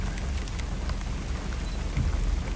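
Steady rain falling in the Gir forest, a close, continuous patter on surfaces that stays even throughout with no voices over it.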